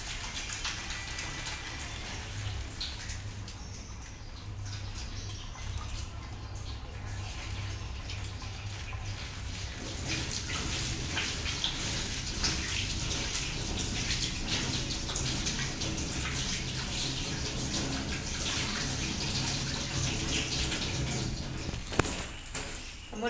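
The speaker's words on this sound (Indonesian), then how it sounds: "Di bawah air mengalir, basahi tangan, kemudian ambil sabun." Water from a tap runs steadily as hands are washed with soap at a sink in a personal hygiene routine, with a continuous close splashing that grows fuller partway through, and no one speaks.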